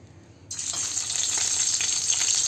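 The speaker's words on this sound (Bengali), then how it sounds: "চলুন এক এক করে ভাজ দিয়ে দিই মাছটা ভাজা হোক" Fish pieces dropped into hot oil in a wok burst into a loud, sudden sizzle after a quiet moment, then keep up a steady crackling fry close by with no talking.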